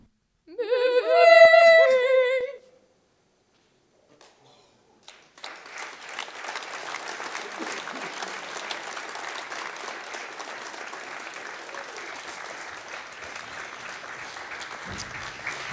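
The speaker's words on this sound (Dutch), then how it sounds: "Hartelijk applaus voor Embodied Learning." An audience at a Dutch late-night show gives warm, sustained applause, a dense steady clapping that rises after a short silence and carries on for about ten seconds, preceded by a brief musical or vocal phrase.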